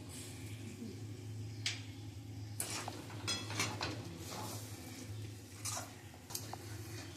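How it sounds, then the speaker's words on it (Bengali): Palm fritter batter with salt and fennel being stirred in a bowl, soft repeated scraping and light clinks against the container, faint and close under a steady background hum. "ভালো করে নাড়তে হবে।"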